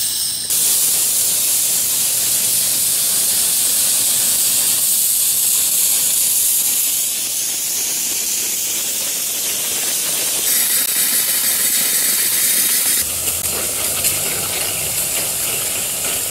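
A compressed air blast blows out an inground sprinkler zone during winterizing, producing a loud, continuous hissing rush of air and spray that runs the full length with slight shifts in tone.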